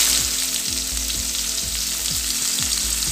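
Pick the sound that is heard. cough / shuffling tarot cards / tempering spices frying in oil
tempering spices frying in oil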